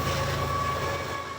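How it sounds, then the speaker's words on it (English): A freight train rolls past on a main railway line beside an auto salvage yard, a loud, steady close-up rumble of wagons with a faint rhythmic clatter of wheels throughout. "a freight train comes through here around about every 20 minutes"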